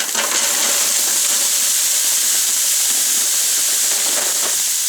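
Crinkle-cut French fries from a two-pound bag fry in hot oil with a loud, dense, continuous hiss and sizzle, steady and unbroken from start to finish.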